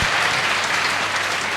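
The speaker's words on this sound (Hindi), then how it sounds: "तालियां तो आज नहीं रुकनी चाहिए।" Loud, dense applause from a crowd at a felicitation ceremony fills the whole short moment, steady and unbroken with no voices over it.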